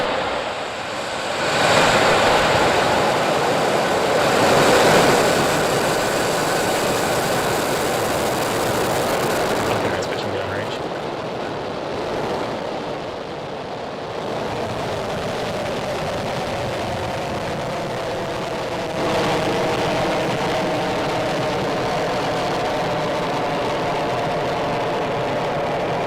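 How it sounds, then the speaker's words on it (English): SpaceX Falcon 9 rocket engines igniting on a Starlink launch, a loud, broad roaring rumble that swells in waves and stays sustained and heavy throughout, with crackling texture building as the rocket climbs. "Falcon 9 is configured for flight. 10, 9, 8, 7, 6, 5, 4, 3, 2, 1, 0. Ignition."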